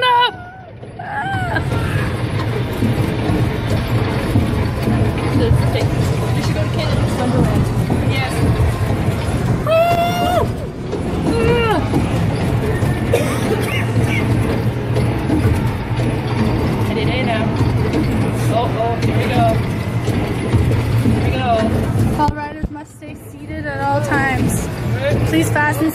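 An amusement ride grinds steadily up its lift hill with a continuous mechanical clatter and low rumble for most of the stretch, loud and close, while riders talk and shout over it.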